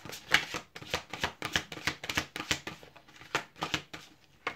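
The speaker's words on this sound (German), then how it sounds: "Mischen wir nochmal." Tarot cards shuffled by hand in quick, uneven riffles and flicks, a rapid crisp papery patter up close and fairly quiet, with no voices.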